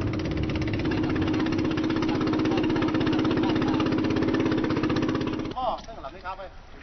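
A small boat engine carries bird-nest collectors toward a cave in Thailand just after a storm, chugging in a steady rapid pulse up close for several seconds before cutting off as a voice speaks.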